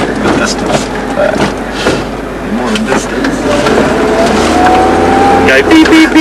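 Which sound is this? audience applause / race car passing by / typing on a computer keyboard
race car passing by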